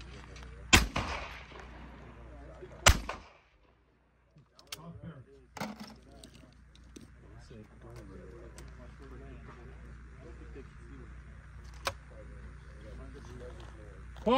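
At a clay shooting shoot-off at Rock Creek Shooting Club, two sharp, loud shotgun blasts ring out a couple of seconds apart, followed later by a fainter single shot, with people talking in the background between them.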